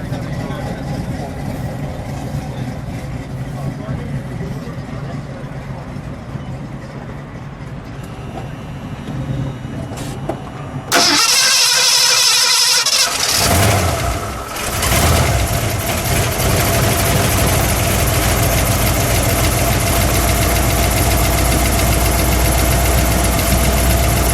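A lime green 1972 Ford Maverick Grabber with a 302 engine and Magnaflow exhaust fires up after some quiet background, then settles into a loud, steady, rumbling idle heard close by while people talk.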